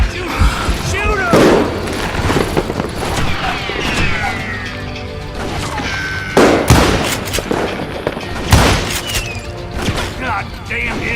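Video game shootout with sharp, loud gunshots fired in a few scattered bursts over steady background noise, while character voices shout beneath the shots.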